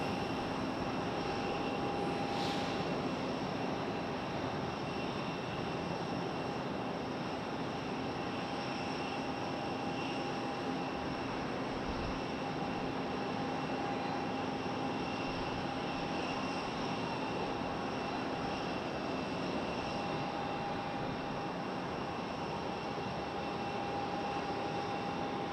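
A United Boeing 737 Max sits holding short at the end of the runway at Raleigh-Durham airport, its jet engines giving a steady, distant idling whine with faint tonal hums that never change.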